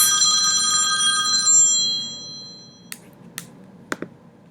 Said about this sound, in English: Oop, got a phone call.